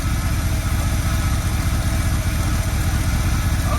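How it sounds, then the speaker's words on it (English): A 1972 402 big block Chevy V8 idles steadily in a close, loud, continuous rumble with an even pulsing beat and no voices. "Let her idle here for a minute."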